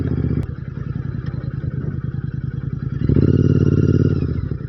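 Royal Enfield GT 650 motorcycle fitted with a Red Rooster aftermarket exhaust, riding past close by with a steady throbbing twin-cylinder engine note that swells louder toward the end.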